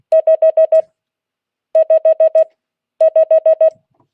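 Three quick bursts of five short beeping tones each, evenly spaced and loud, forming Morse-style groups for the number 5 in a Morse code class, with no talking.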